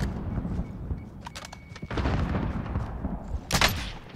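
Gunfire in Warzone from a cheater shooting through a wall: several sharp shots and rumbling impacts, with one loud crack near the end over a noisy game background.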